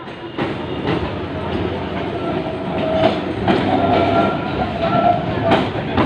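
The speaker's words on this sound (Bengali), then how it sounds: "এই যে ট্রামটি আসছে এই ট্রামটি আবার যাবে গড়িয়াহাট" A two-car Kolkata tram bound for Gariahat rumbles along rails nearby with a steady rolling roar and faint clacking, street noise around it, growing slightly louder as it approaches.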